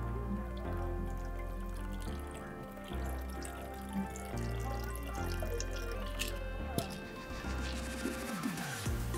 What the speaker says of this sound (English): and then we slowly pour